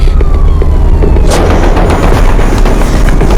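A sharp crack of gunfire bursts out amid loud, dense noise and rumble, with faint siren-like tones in the background.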